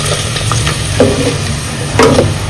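Tempering for kadhi sizzles loudly in hot oil in a Gujarati village kitchen, with a steady close fry and stirring bursts around one and two seconds, no talking.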